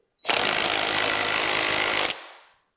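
An impact wrench tightens the pulley nut on an Audi S4 B7 4.2 V8 during a 6-rib pulley conversion, giving one loud, steady, close burst of roughly two seconds that then cuts off.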